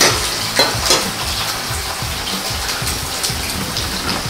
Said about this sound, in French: Je vais prendre ma viande, mettre dans l'huile.